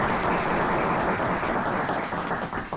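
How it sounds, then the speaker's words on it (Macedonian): An audience at a live show claps in steady, dense applause that fills the room for a few seconds and then begins to thin out. "Дајте аплауз"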